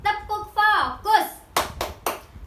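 A teacher leads young schoolchildren in a rhythmic focus-clap routine during a classroom lesson: a chanting voice comes first, followed by three sharp, evenly spaced claps ringing out close and loud.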